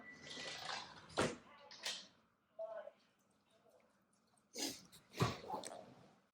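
A dog makes a few short, quiet bursts of noise, likely barks or snorts, scattered with pauses in a quiet room, with a voice faintly present.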